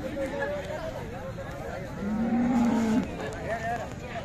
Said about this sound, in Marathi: अशा प्रकारच्या खिल्लार गायी आहेत तिथं.